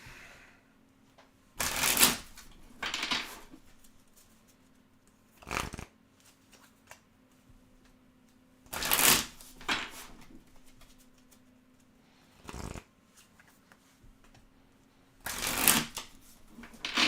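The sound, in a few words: shuffling a deck of cards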